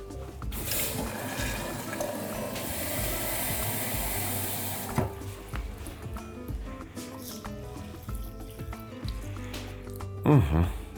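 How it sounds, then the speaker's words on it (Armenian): Cold water pours steadily onto a bowl of soaked round rice for beef-heart tolma, a close, continuous splashing fill for about four seconds, followed by quieter kitchen sounds and a brief clatter near the end. "Սրան ավելացնում ենք ջուր,"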